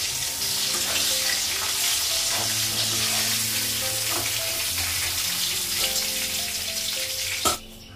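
Fish sizzles steadily in hot oil in a pan, a loud close crackle running throughout with a few clinks of utensils against the pan and a sharp knock near the end.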